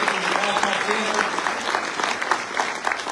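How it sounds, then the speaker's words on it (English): A big round of applause at a Social Security town hall, honoring Long Island University and Tele Center; steady, dense clapping from a sizable crowd throughout. "Let's give Long Island University and Tele Center a big round of applause"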